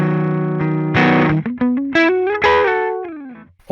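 Overdriven electric guitar through a Line 6 HX Stomp with the drive turned up rings out with sustained, gritty chords, then a sliding run of notes rising and falling, loud and saturated.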